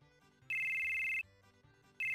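A telephone rings in the video game Final Fantasy VII: loud, steady electronic trill bursts repeating in a regular on-off pattern over a soft synthesized music background.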